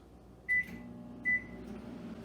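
Microwave oven running during a keto chowder preparation, a low steady hum with two short high beeps near the start, fairly quiet and with no talking.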